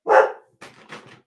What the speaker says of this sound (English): She's barking at everything today.